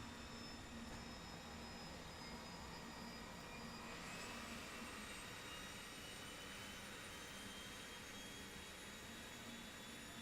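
Turboprop engine spooling down after shutdown in a flight simulator game, a steady broadband whine and rumble with faint high tonal lines that slowly fade, continuous and fairly quiet throughout with no talking.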